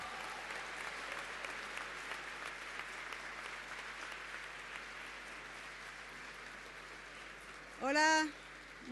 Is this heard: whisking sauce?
no